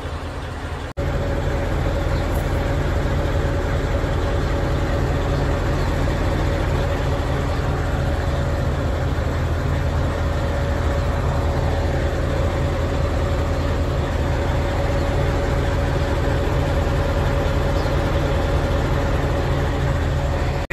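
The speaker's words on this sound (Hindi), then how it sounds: "ऑयल पानी चेक करके हमने क्रेन कर दिए चालू" A crane's carrier engine runs after starting, a loud, constant mechanical drone with a steady hum, preceded by a brief click at the start.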